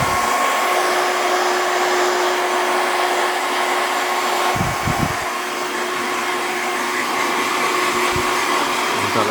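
A hair dryer with its nozzle attached blasts hair forward during a mod haircut, a loud, steady, close-up rushing roar that runs the whole time, broken only by a few brief handling knocks.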